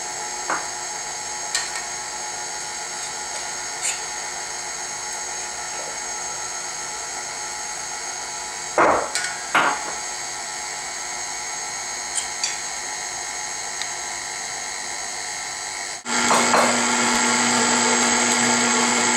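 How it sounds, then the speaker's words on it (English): A hand electric mixer beats pudding chômeur batter on low with a steady close whir, a few clatters of beaters against the bowl, then a louder, brighter whine near the end. "And then you mix on low."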